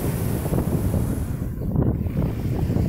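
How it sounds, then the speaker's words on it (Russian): Black Sea water washing and splashing close by at Malaya Bukhta beach in Anapa, a continuous rushing roar with wind buffeting the microphone throughout. "море плещется."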